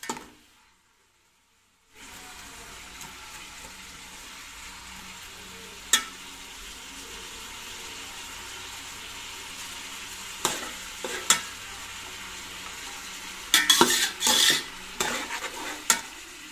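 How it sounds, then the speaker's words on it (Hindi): Onions sizzle steadily while frying in a pan for a Shinwari-style beef karahi. A spoon stirs and scrapes against the metal now and then, with a cluster of clinks and scrapes toward the end. "थोड़ी सी बस इसको भून ले बस प्याज को"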